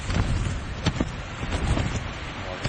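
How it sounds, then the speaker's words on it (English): Strong wind gust buffeting the microphone at a wild camp by Red Tarn in the Lake District on a winter night, a broad continuous roar that swells and eases in surges. "The wind comes and goes. It's like in gusts, quite strong gusts"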